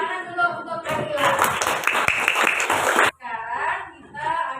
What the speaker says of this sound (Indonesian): tepuk tangan dulu untuk Adil.